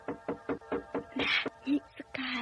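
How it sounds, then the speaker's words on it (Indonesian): Knocking on the front door of a house at night, a series of about five firm, evenly spaced raps up close, followed by a few scattered thumps and short bursts of noise. "Nah, sekarang pintu rumah ibu diketuknya."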